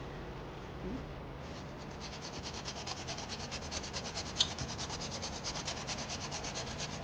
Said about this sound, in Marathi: जायफळ फळे किसून टाकते